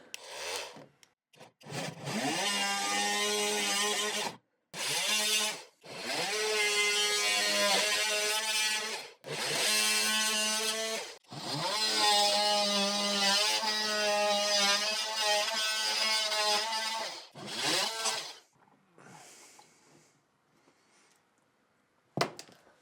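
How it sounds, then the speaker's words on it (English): Hand saw cutting along a marked line in a drywall ceiling while installing a ceiling fan, in long steady back-and-forth strokes with short pauses between bursts, loud and close with no talking. "I'm going to cut out my line that I made."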